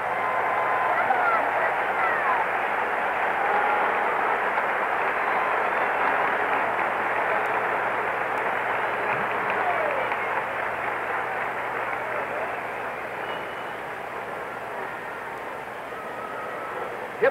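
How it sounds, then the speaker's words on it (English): A large baseball stadium crowd at the 1968 World Series in St. Louis roars steadily and loudly for a long stretch, a continuous wash of cheering that slowly fades a little toward the end. "Listen to the reaction from the crowd as Bob Gibson comes up."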